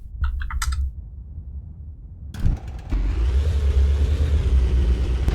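A tank engine in the vehicle-design game Sprocket idles low, then roars up as the tank accelerates, a loud steady rumble building and holding to the end, with faint keyboard-like clicks early on.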